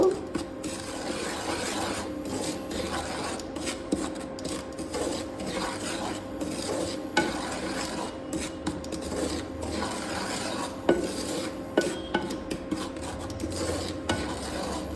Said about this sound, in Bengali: সুজিটা একটু আমি ভেজে নেব। হালকা করে ভেজে নেব।